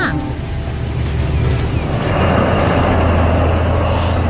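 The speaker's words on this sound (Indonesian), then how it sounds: "kereta uap itu melaju dengan anggun membelah pemandangan desa yang tenang." A steam train rolls through quiet countryside, a steady loud rumble of rail movement with a low continuous drone that swells slightly in the second half.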